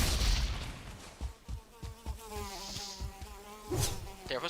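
A deathsquito from Valheim buzzes close by, a whining, wavering drone over a few dull thuds and bursts of noise, heard alone without speech.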